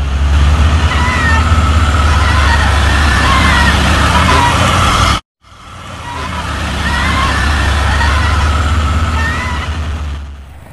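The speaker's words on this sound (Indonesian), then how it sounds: "Trailer gagal nanjak dan mundur itu ya." A long Hino trailer truck labours loudly on a steep uphill road, failing to climb and rolling back, its heavy engine droning near and steady, broken by a brief dropout midway.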